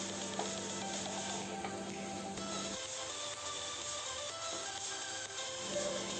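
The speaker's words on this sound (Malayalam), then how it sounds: "അതിനുശേഷം ഇതിലേക്ക് 1 ടീസ്പൂൺ സോയാ സോസ് ചേർത്തിട്ട് ഒന്ന് വഴറ്റി കൊടുക്കുക" Sliced onions sauté in a pan with a teaspoon of soy sauce, a low steady sizzle and soft stirring scrapes heard up close, with no talk.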